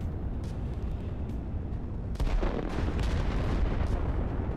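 Rocket strikes explode in the strategy video game Line War, a dense rumbling barrage of booms and blasts that swells louder midway and stays thick and continuous.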